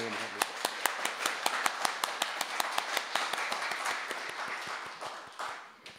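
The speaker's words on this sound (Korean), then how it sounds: "우리 하나님께 영광의 박수를 올립니다" Congregation clapping in church during an early-morning worship service, with distinct rhythmic claps in a steady beat that thins and fades toward the end, fairly quiet in the room.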